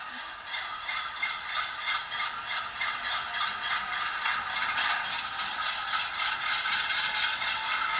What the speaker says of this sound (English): Brake squeal, or a coupler clank, I should say.